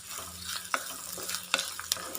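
Mustard, cumin, ginger, garlic, shallots, green and dried chillies and curry leaves sautéing in oil for a Kerala buttermilk curry, a steady close sizzle broken by sharp spatula scrapes and clinks against the pan.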